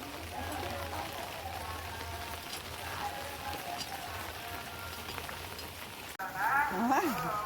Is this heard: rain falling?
yes